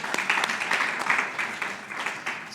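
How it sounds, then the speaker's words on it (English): Audience at a women engineers and scientists conference in Kigali applauds presenters, a steady, dense clapping that fills the room at close range, with faint voices mixed in. "let's give a mic clap for all the 3 presenters"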